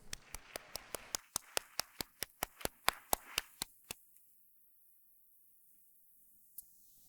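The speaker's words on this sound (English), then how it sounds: "please again give your support systems a round of applause" Hands clapping at a PharmD class pinning ceremony at the UGA College of Pharmacy: a quick, even series of sharp, close claps that stops after about four seconds, followed by near silence.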